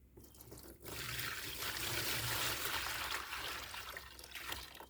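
Collected rainwater poured and splashed while rinsing dug-up glass, a steady close trickle and splash that swells after a quiet start and continues alone throughout.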